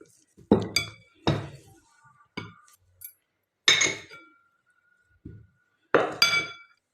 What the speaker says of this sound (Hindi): ये आलू हमने इसमें मैश कर लेने हैं।